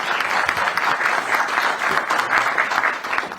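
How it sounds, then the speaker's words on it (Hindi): An audience at a defence ministry speech breaks into sustained applause, a dense, even clatter of many hands clapping for several seconds before starting to taper off. "इस पर तो ताली तो बजनी ही चाहिए।"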